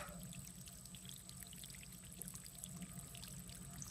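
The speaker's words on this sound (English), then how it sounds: "listening to the sounds of the water" Soft, continuous pouring and trickling water during a quiet guided meditation, faint and steady throughout with no voices over it.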